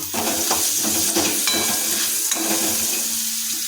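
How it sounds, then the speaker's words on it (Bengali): Crushed garlic is stirred by hand in a hot pan. Continuous sizzling and frying is broken by soft scraping and shuffling stir sounds throughout. "থেতো করা রসুনটা আমরা যোগ করে দিয়েছি তাই এটাকে ভালোভাবে হাত দিয়ে নাড়িয়ে নেব"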